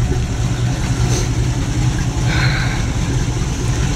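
A GAZ-24 car with a V8 engine idles cold just after starting, a steady, close, deep rumbling tick that holds an even rhythm throughout with no talking.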